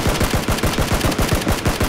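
Rapid automatic gunfire in the battle royale game PUBG, a loud fast burst of evenly spaced shots rattling continuously for two seconds.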